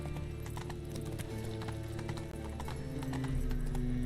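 Roach, a horse in The Witcher video game, trots with quick, steady clip-clop hoofbeats and gives a whinny, loud and close over a low background rumble.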